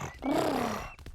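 A voice imitates a tiger's purr or growl: one drawn-out, wavering rumbling note of about a second, close and fairly loud, then brief rustling.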